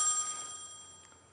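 A telephone rings in an office setting, a single bright electronic bell tone that fades quickly, with no talk over it.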